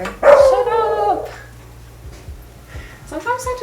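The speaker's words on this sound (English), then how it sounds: "Sometimes I just want to start barking back, you know?" A dog barks and yips loudly nearby in a short burst, then again more briefly, with a voice in the mix.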